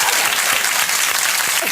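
Studio audience applause at a late-night talk show, steady dense clapping from a crowd that fills the whole moment at an even, moderately loud level with no break.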